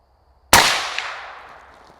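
A single rifle shot from a 6 ARC gas gun cracks sharply at close range and then rings out in a long, fading echo.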